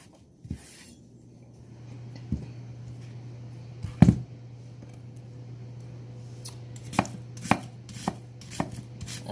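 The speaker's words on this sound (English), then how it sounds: "now we are going to cut up some onion" Knife chopping onion on a cutting board: sharp, irregular cuts, a few spaced hits and then a quicker cluster, over a steady low hum, no talk.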